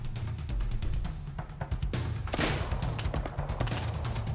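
Sniper rifle and other gunfire in the survival video game Rust: dense, sustained bursts of shots and thuds, loud and continuous, with no talk over them.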